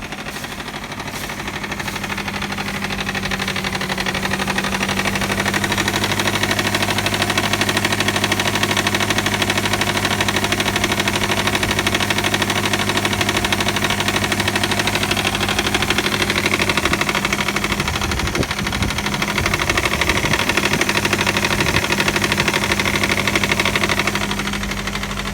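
Subaru EJ257 engine clacking on a cold start from a defective timing belt tensioner, a loud steady mechanical rattle over an idling drone that continues throughout.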